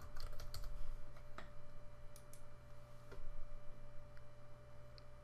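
Computer keyboard clicking as an admin password is typed: a short, quiet series of separate key taps over a steady electronic hum.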